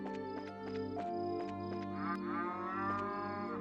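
Cow mooing in Trails in the Sky, a long, drawn-out, tonal low against steady game background music, loud and up close.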